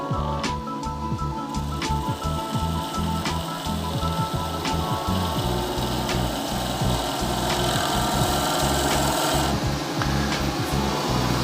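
A roughing gouge takes a planing cut along spinning timber on a wood lathe, giving a steady close scraping, rasping hiss with a low rhythmic flutter from the rotation, running continuously with no voices.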